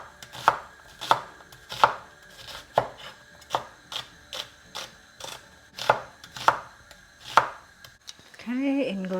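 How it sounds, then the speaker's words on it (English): A knife roughly chops a good-sized onion on a cutting board with about a dozen crisp, evenly spaced thuds, close and clear, followed by a brief different sound at the very end. "I've got a nice size onion. If you're taking smaller onions, take 2. And I'm just going to roughly chop it up."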